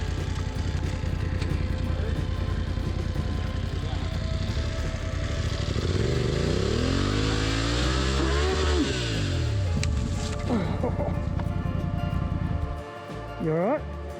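An adventure motorcycle engine drones steadily off-road, close and continuous, with a rising rev midway, and voices come in near the end.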